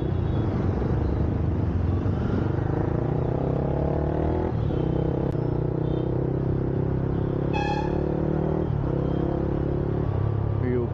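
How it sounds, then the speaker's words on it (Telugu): Heavy road traffic in Uppal, Hyderabad, rumbles steadily close by, with engines droning throughout, a short sharp horn blast and a brief multi-tone vehicle horn near the end. "ఈ ఉప్పల్లో ట్రాఫిక్ ఘోరం ఉంటుంది"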